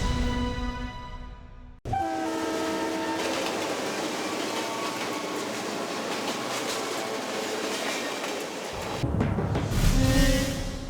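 A train rumbles past on the tracks, a loud continuous roar with rattling wheels that swells and then fades.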